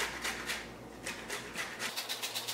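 A tomato is rubbed against a kitchen grater in quick, rhythmic strokes. The scraping swishes are soft and fairly faint, repeating about a dozen times with a short pause midway.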